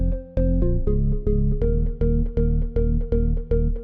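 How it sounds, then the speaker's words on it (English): Korg M1 house organ chords stab in a steady, regular rhythm over a deep synth bass line, loud and close with no voices over it. "if we preview the Korg M1 together with the bass line, it sounds like this"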